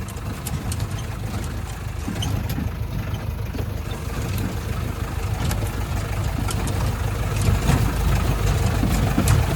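A hired jeep's engine drones steadily while driving an off-road track toward a hill viewpoint, a low rumbling idle-like hum that gradually grows slightly louder, close and with no talk.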